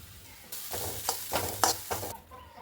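Curry leaves sizzling in hot oil over a masala paste, stirred in bursts, with sharp crackling pulses and spoon scrapes that rise and fall.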